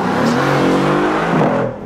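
Mercedes-AMG GT R with a 4-liter twin-turbo V8 and race-developed exhaust, revving loudly and close in one sustained rising and falling roar that fades at the end.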